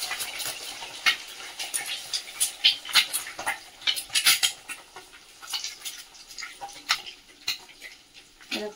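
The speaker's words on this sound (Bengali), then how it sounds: "তেলের মধ্যে ডিমগুলো আগে আমি ভেজে নেবো ডিম ভুজিয়া বানাবার জন্য" Eggs frying in white oil in a wok for egg bhujiya, with a soft crackle under repeated sharp scrapes and clinks of a utensil against the pan, close and irregular throughout.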